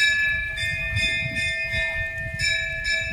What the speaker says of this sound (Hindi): यहीं पास में मंदिर भी है, तो घंटी बज रहा है।